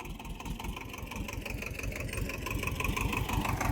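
A tractor engine chugs steadily at close range while reversing on a watermelon harvest, a low rhythmic putter with no voices.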